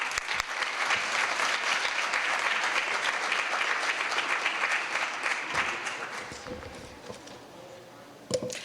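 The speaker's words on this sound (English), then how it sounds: "Can you please give a round of applause to Samantha Latshaw?" Loud applause from a crowd at a city Hispanic Heritage Month celebration, sustained for several seconds before thinning out and fading, with a few scattered claps at the end.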